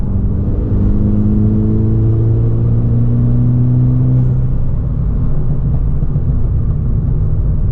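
A 2013 Volkswagen MK6 accelerates in fifth gear, a loud steady engine drone with rising tonal whine over road rumble, heard from inside the car with no talking.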